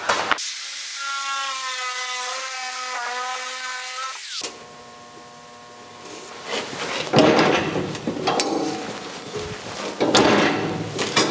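Sheet metal being cut for a replacement quarter panel on a 1956 Chrysler Windsor: a steady, loud whining power tool for several seconds, then a pause and harsh, uneven grinding and cutting bursts close by.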